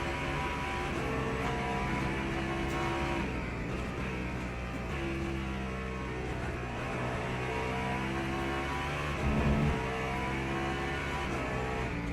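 An LMP2 prototype race car at Sebring with a steady, droning engine note and shifting pitch through the gears, continuous and fairly loud throughout with no talking.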